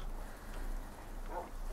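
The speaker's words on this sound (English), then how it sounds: "Oh my gosh, this rain." Steady rain falls in Minecraft, a dense, even patter with a low rumble underneath, continuous and fairly loud with no voices.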